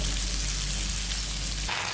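Potatoes frying in oil in a pan as Malabar spinach from Barisal is added, a steady close sizzle that shifts abruptly near the end as the greens drop in.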